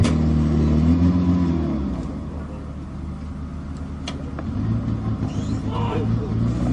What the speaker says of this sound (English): The gun is now being elevated to its maximum elevation of 70 degrees.